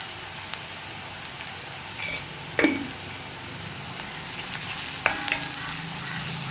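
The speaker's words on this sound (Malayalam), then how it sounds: "ഈ സവോള ഒന്ന് കുക്കായി തുടങ്ങുമ്പോൾ നമുക്ക് ബാക്കിയുള്ള കാര്യങ്ങൾ ചേർക്കാം" Sliced onions fry with a little salt in a pan, a steady close sizzle like light rain, broken by two sharp scrapes or knocks of a spoon against the pan.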